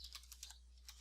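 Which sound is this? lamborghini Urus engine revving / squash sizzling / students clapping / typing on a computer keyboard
typing on a computer keyboard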